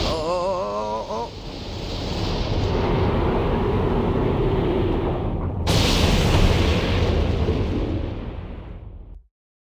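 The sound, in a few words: explosion in the Disgaea 2 video game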